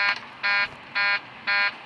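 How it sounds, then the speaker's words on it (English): In the X-Plane flight simulator, a 737-800 cockpit sounds its takeoff configuration warning: a loud, harsh intermittent horn in three evenly spaced bursts, each about a quarter second long, over quiet cockpit hum. "you have to do alarm checks to not get the takeoff configuration warning"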